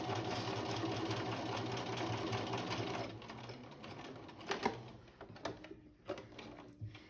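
A sewing machine runs steadily, stitching long gathering stitches with no backstitching, a continuous whirring hum for about three seconds that then stops, leaving quieter scattered clicks and handling sounds.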